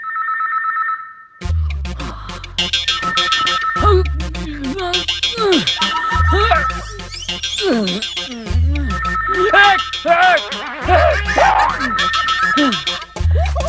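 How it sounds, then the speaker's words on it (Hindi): A phone rings repeatedly in a steady, tinkly pattern of bursts that fills the clip, loud and close, with no talking over it. "लो फोन की घंटी बंद हो गई, मोबाइल यहाँ पड़ा हुआ है"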